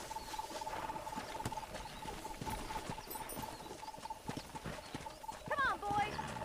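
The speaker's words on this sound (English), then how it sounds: "That ranch hand said there's a pack of wild horses nearby." Wild horses in the Red Dead Redemption video game gallop with a rapid, soft hoof patter and a short neigh near the end, heard faintly under voices and a steady tone.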